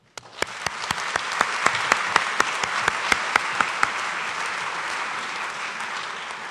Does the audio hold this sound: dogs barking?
no